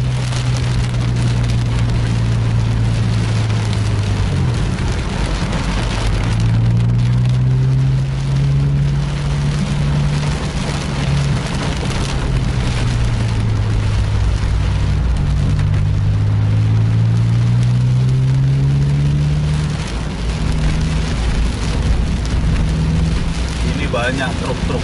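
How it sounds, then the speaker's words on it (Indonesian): Heavy rain drums steadily on a sleeper bus and the road outside during a trip, a dense continuous wash under a low engine drone with rising and falling hums, while voices talk over it. "hujan gini"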